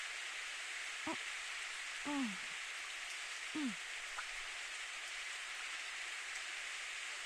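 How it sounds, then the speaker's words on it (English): Steady rain hisses throughout a rainy scene in the visual novel Steins;Gate, a constant even wash with a few brief sliding voiced sounds on top and a short murmured reply. "Hey, it's raining."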